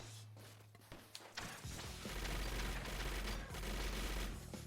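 Rapid machine gun fire in the Guns N' Runs video game, a sustained low rattling burst that runs steadily for several seconds after a few brief lighter taps, fairly quiet overall.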